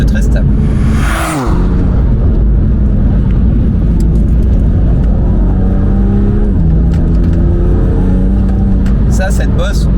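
A race car engine drives loud and steady on a circuit as the car drifts, with a brief whoosh early on and continuous engine drone throughout.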